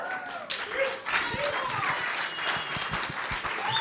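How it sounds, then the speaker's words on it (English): Audience clapping at a music and Web3 event, moderately distant and fairly quiet, with scattered individual claps and voices talking over it. "Round of applause"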